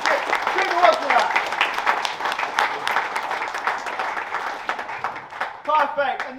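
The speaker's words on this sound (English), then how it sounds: "Another round of applause for your DMAX Nationals interweight endurance championship, Kuba Wozniak." Crowd applause for a DMAX Nationals interweight endurance motorsport champion at a season awards event, sustained clapping under a loud announcer's voice speaking throughout.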